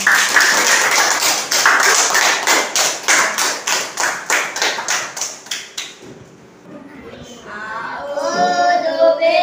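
Classroom pupils clap in unison for classmates called to the front to recite Surah Al-Lahab, with about fifteen evenly spaced, loud claps in a steady beat. The clapping stops, and after a pause a voice begins speaking.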